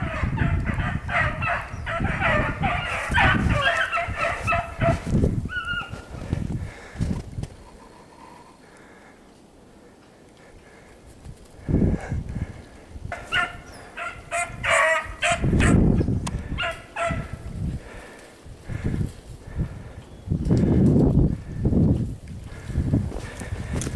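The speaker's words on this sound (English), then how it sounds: "So you can hear the dogs running right now." Beagles baying in repeated bursts while chasing a hare outdoors near a fence, their cries fading during a quiet stretch and then returning loud and close.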